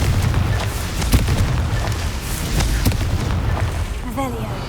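A Confringo fire spell blasts in Hogwarts Legacy, a dense booming burst with crackling rumble that fills the whole stretch, followed by a brief whooshing magical flourish at the end.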